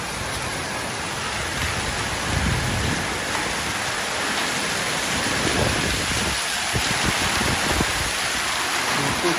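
A hailstorm with heavy rain pours down as a loud, continuous hiss and patter, with deep rumbles of thunder rolling underneath throughout.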